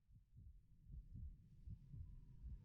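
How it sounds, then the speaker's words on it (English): Low, muffled heartbeat pulses in a video game keep up a steady throbbing rhythm, soft and close, with no other sounds over them. "why can we hear the heartbeat?"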